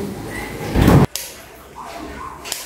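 A door bangs hard once, a loud rattling thud that cuts off sharply, followed by a small knock and faint rustling in the background.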